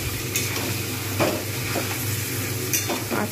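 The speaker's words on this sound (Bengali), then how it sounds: "এবার আমি এর মধ্যে মাংসগুলো দিয়ে দেবো, ম্যারিনেট করে যেগুলো রেখে দিয়েছিলাম দিয়ে দিলাম।" Marinated chicken pieces dropped into hot spiced oil for a home-style chicken and potato curry, giving a steady, fairly loud frying sizzle with a few brief stirring clinks and scrapes throughout.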